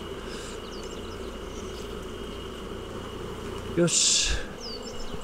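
Honeybees buzz steadily around an open beehive during a June colony split, a dense constant hum close by, broken near the end by a brief clatter of handling; a person speaks briefly.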